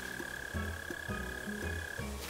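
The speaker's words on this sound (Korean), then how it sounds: "누가 봐도 개구리인데?" A frog villager in the video game Animal Crossing: New Horizons croaks in a steady repeating rhythm of short low calls over a soft synthetic tone, moderately loud and with no talking.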